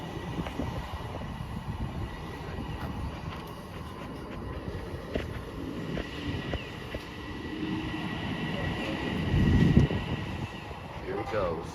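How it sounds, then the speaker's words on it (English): A train pulls out of a station with a steady rumble and rising mechanical noise, growing a little louder toward the end, heard from fairly close on the platform. "Here goes the train."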